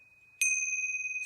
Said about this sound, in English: allow the sound of the tingshaws, the chimes